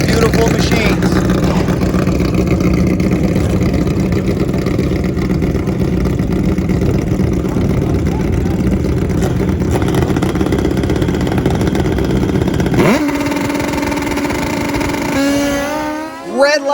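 Old-school Suzuki GS and Kawasaki KZ race motorcycles roar at a drag strip, a loud steady engine drone that later gives way to a rising rev as the bikes launch and pull away.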